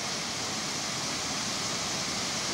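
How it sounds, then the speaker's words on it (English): A small waterfall beside a lake pours steadily, giving a constant, even rush of falling water with no breaks or other sounds. "And this is a little waterfall."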